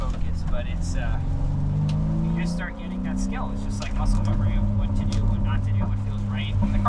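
A car drives along a wet mountain road at the Tail of the Dragon, its engine hum and tyre rumble steady and close inside the cabin, while someone talks over it throughout.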